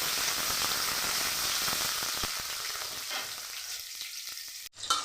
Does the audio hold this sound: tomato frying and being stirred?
yes